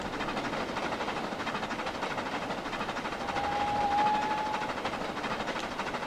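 A worn-out train in Trainz climbs a gentle gradient with a steady, rumbling roll and faint rhythmic clatter, swelling slightly midway with a thin high tone, heard alone and at moderate loudness.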